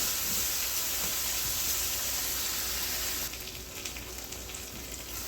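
Chicken adobo sizzling and frying in a pan: a steady, close, loud hiss throughout that drops slightly in level partway through, with no talking.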